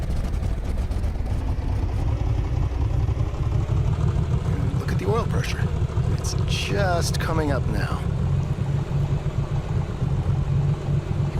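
A cold aircraft engine runs steadily as it warms, a loud, continuous low drone close by throughout, with someone talking over it midway.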